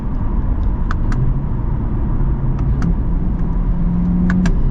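Inside a 2024 Chevrolet Corvette in manual mode, a steady, loud engine drone fills the cabin, with a few faint clicks on top.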